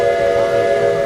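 Steam-style whistle on a homemade barbecue cart with pork cooking inside, at a cart race in Indianapolis; a loud, steady sustained tone with a slight rumble beneath, no talking.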